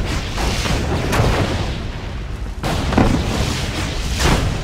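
Torpedo blasts in Yuri's Revenge, a real-time strategy game: loud, booming explosions fill the clip, with a sharp burst just past one second and another strong blast near two and a half seconds, all over constant battle rumble.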